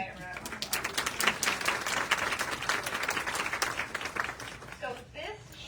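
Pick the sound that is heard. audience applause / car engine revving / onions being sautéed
audience applause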